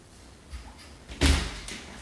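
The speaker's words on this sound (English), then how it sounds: "Shower door works." A shower door in a master bath swings and shuts, giving a soft knock followed by a louder close with a brief rattle, heard alone in a quiet room.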